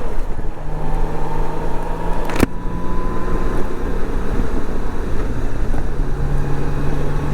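A 1997 Honda Goldwing GL1500SE motorcycle accelerates on the road, its engine a steady, loud drone under heavy wind rush, with one sharp click partway through.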